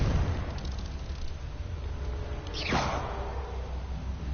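A Confringo spell explosion in the video game Hogwarts Legacy, a fiery blast with a sweeping whoosh midway, moderately loud over rumbling background noise.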